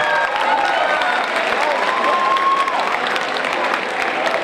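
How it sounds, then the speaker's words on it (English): An audience of families and teachers at a 10th-grade celebration event applauds in a dense, steady wash of clapping, loud and sustained throughout, with faint cheers and murmuring voices mixed in. "can we all give a round of applause to all of our 10th graders?"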